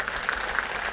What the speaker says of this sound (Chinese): 掌声响起来